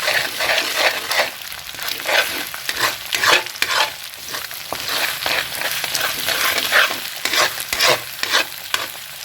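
Eggs frying in a pan, a steady loud sizzle broken by repeated scraping and stirring strokes of a utensil throughout, with no voices.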